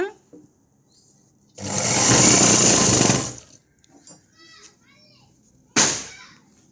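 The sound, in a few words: sewing machine stitching a blouse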